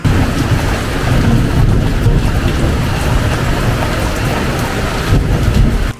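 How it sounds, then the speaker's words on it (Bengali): Heavy rain pours down without pause, a dense, loud, continuous roar of drops with a deep low rumble underneath and no voices. "এদিকে দেখুন বৃষ্টি একদমই থামেনি এখনো"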